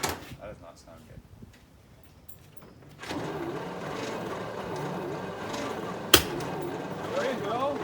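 A 1951 Dodge Power Wagon engine cranks on its starter and catches: a quiet stretch gives way to a loud, steady mechanical churn that holds to the end, broken by one sharp knock, with voices faintly present.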